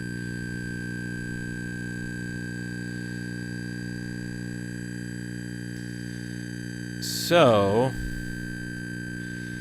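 Steady stack of electronic sine-like tones, produced by converting video into an audio signal, hums throughout, then a brief burst of warbling, sweeping chirps near the end as a voice speaks once.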